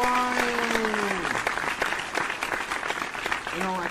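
Crowd-style applause sound effect, dense continuous clapping held at a steady loud level for several seconds, with brief tonal whoops at the start and end.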